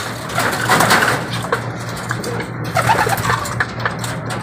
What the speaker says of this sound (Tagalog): Ang lalakas uminom mga kalapati